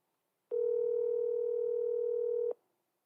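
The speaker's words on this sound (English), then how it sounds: "It's ringing." A single steady tone of about two seconds sounds over a speakerphone while calling a charity school auction winner, starting and stopping cleanly against near silence.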